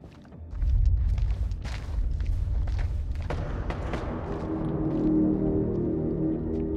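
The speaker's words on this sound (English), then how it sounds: "That's gunfire." Scattered distant gunshots crack over a heavy low rumble in the horror video game House of Ashes, sharp reports spaced irregularly and fading into a steady droning background.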